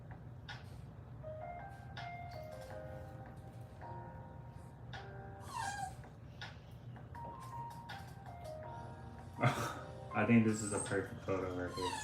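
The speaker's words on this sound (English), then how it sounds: "Excuse my dog, you guys. He's a crybaby." A dog whimpers in high, thin whines, several short cries scattered under steady indoor talk during a live drawing session, with low background hum throughout.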